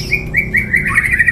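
A murai (magpie robin) sings close and loud, a quick series of bright chirping whistles repeating rhythmically over a low background hum.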